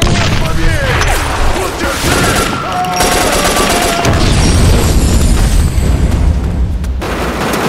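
A barrel explosion and steady gunfire from 50 Cent: Blood on the Sand keep up a dense, loud roar throughout, with booming blasts mixed into continuous automatic fire.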